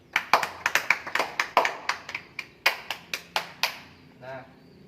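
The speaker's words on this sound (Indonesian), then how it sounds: "Tepuk tangan dulu." A class of students claps hands in a burst of separate, fairly sharp claps, about a dozen over a few seconds, close and moderately loud, ending with a short hum.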